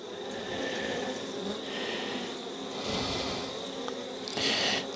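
Honey bees at a small nucleus hive make a steady, dense buzzing hum with brief swells as individual bees pass close by, and nobody speaks.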